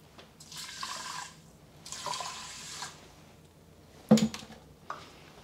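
Water is poured over rice in an Instant Pot inner pot in two separate splashing pours, followed by a sharp metallic clank and a softer knock, close by and with no talking.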